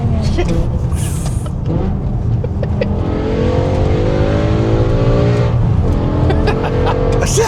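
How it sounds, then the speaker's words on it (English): A loud E39 BMW M5 V10 engine revs and roars continuously, rising in pitch as it accelerates, with people talking over it. "So I love the V10 M5, especially the noise."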